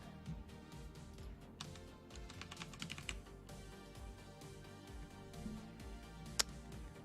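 Quiet, continuous clicking of keys on a computer keyboard with an uneven rhythm and a few sharper key strikes, over a low background hum.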